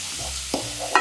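Chopped sun-dried tomatoes are stirred into a bowl of quinoa salad with halloumi, pomegranate and roast peppers, giving a brief close scrape and soft clatter of the utensil against the bowl. There is no talking during the stirring.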